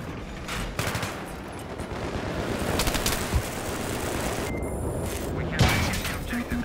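Rapid video game gunfire crackles in bursts over a dense, noisy battle mix, with a few sharper shots standing out.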